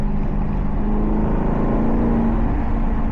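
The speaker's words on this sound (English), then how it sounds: "That's the exhaust opening up." A Maserati GranTurismo in sport mode accelerates hard, its exhaust opening up into a loud, sustained engine roar with a rising tonal drone, close and continuous throughout, no talking.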